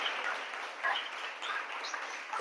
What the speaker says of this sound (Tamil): நல்ல கைத்தட்டி தேவநாமத்தை